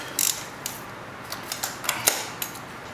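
A ratchet with a socket and extension works loose the spark plug on a Yamaha FJ-09/Tracer motorcycle, giving a series of sharp, close metallic clicks in an uneven rhythm against a quiet background.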